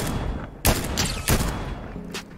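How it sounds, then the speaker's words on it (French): Three loud volleys of Fortnite gunfire crack close by in quick succession, with a low game hum underneath, followed by a fainter burst and no voices. "Ça tire sans moi."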